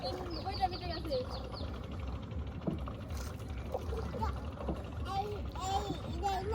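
A boat being turned and manoeuvred on the Ichamati river, with water sloshing and knocking under continuous nearby chatter, children's voices and occasional bird calls.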